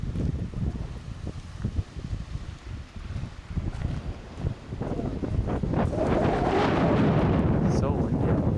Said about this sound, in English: So windy out here.